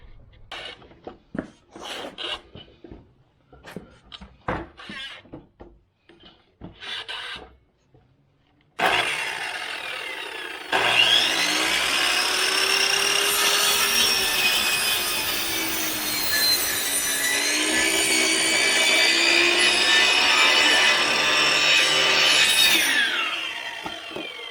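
A wooden post is cut to height while building a 6x8 storage shed. A few scattered knocks come first, then a loud, continuous sawing drone runs close and steady to the end, with no talking.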